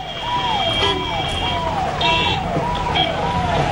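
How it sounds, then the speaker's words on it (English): Siren blaring on a state minister's car arriving at a public event in Chandauli, India: a rapid, repeating wail cycling about twice a second, loud and steady over a busy background with voices. "Blaring sirens and police security declare him arrived."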